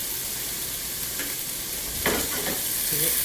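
Green onions are stirred into an egg foo young mixture with chicken, a soft scraping stir heard over a steady frying hiss, with a few spoon knocks near the end.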